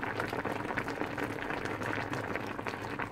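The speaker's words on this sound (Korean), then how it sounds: "배추와 감자의 데치는 소리는 와일드합니다" Sliced cabbage and potato blanching in a pot of boiling water, a close, steady, vigorous bubbling and rolling boil that carries on without pause.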